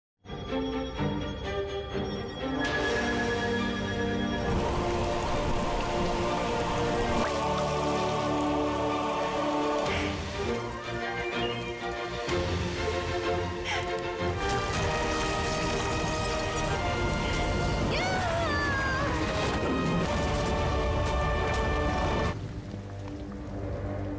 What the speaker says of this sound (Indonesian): membuat hujan tiba-tiba turun